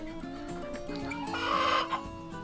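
Bantam hens cluck and murmur in a chicken coop, a soft run of close, quiet calls with a brief louder squawk near the end.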